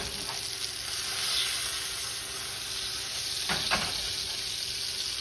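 Salisbury steak patties sear in a hot pan with a steady, close broadband sizzle, brief louder crackles rising near the end.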